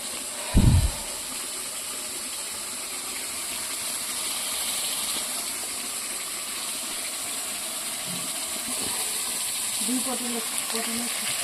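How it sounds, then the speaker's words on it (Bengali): Onion, garlic and ginger spice paste cooking down in a pan for a malai curry, a soft steady hiss after a brief thump, with quiet voices near the end. "সেই মশলাটা আমি কষাচ্ছি এখন।"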